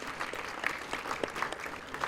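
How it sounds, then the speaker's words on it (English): An audience claps for award winners at a junior ICT championship ceremony in India, a steady patter of scattered hands at moderate level in a large room, with no voices over it. "we can still clap for them"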